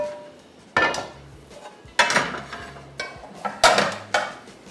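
A metal pan is picked up and set down on a kitchen stove, giving several sharp clanks and knocks at uneven intervals, close and fairly loud, with no speech.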